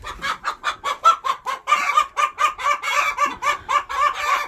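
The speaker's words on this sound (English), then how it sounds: "They're nice looking chickens. What kind are they? They sort of look like a black Australorp." Black Australorp chickens clucking in a steady, rhythmic run of close, overlapping calls with no pauses.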